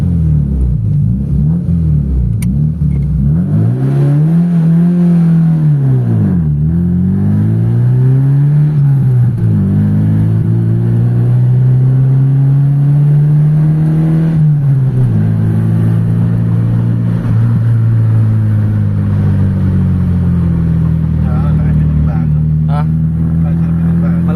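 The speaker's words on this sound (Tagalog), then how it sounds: "Tunog ng makina, amoy ng gasolina." A Mitsubishi Lancer GLXi engine with a high, slow-settling idle is revved repeatedly on a test drive, a loud, close rumble rising and falling in pitch in several sweeps before holding a steadier drone.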